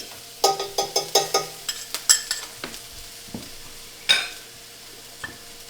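Garlic spooned into a hot pan for chicken parmesan, heard as a quick run of clacking spoon-and-pan clatters with crackling bursts, then a few scattered knocks over a faint sizzle.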